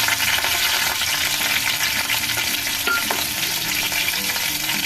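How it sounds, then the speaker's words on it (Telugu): Dried red and green chillies fry in hot tempering oil for a tomato yogurt chutney, giving a steady, dense sizzle and crackle that stays loud for the whole stretch, with faint stirring underneath and no voices. "వేసి ఇలా వేయించేసుకోవాలి"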